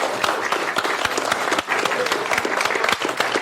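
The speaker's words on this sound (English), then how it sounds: "Can we have a round of applause for all 3 of these people?" An audience at a magic show breaks into lively applause, sharp individual claps standing out within the crowd's busy, close patter, with some talking mixed in.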